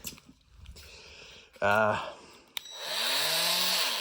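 Milwaukee reciprocating tool revving up in short bursts while cutting, its motor whining close and loud with a rising pitch, after brief handling noises and short pauses.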